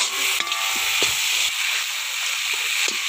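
Onion, tomato, turmeric and curry masala sauté and sizzle steadily in a pan for quail gravy, a continuous close frying hiss broken by a few soft stirring knocks, with no talk.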